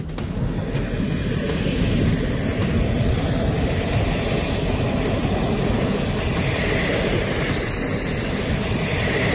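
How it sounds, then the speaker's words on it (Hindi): Five Rafale fighter jets landing at Ambala airbase, a loud, continuous roar of aircraft engines that fills the whole stretch without a break and carries no speech. "3:09 पर दंदनाते हुए 5 राफेल अंबाला एयरबेस पर लैंड किए।"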